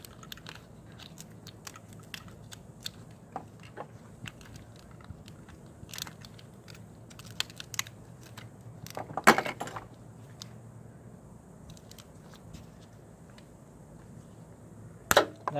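A battery cable being trimmed back while battery terminals are replaced, heard as sparse, quiet crunching snips and clicks, with two sharper cuts standing out against a faint background.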